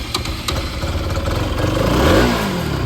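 A motorcycle engine idles with a lumpy, uneven clatter close by, then climbs into a rising rev midway before easing back, with no voices over it.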